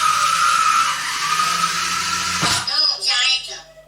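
A small wheeled robot reverses across a smooth floor surface, its motor whine and rolling wheels loud and steady for over two seconds before an abrupt stop, followed by fainter clatter and a person speaking.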